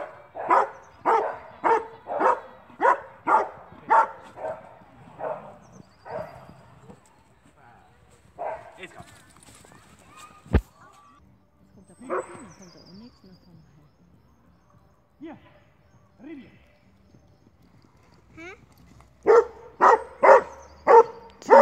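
Hunting dogs bark outdoors, a quick run of sharp repeated barks, then scattered yelps, insect chirping and someone speaking during the quieter stretch, before another fast burst of barking at the end.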